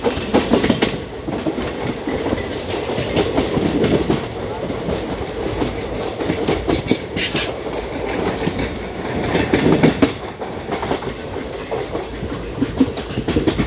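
A passing train on the Howrah–Secunderabad route rumbles close by with rhythmic clickety-clack of wheels over rail joints, loud and steady throughout.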